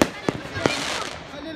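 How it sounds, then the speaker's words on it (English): Neighbors' fireworks go off outdoors at night, a few sharp bangs and crackles with a lingering rumbling tail, with voices talking faintly in the mix. "They set off fireworks."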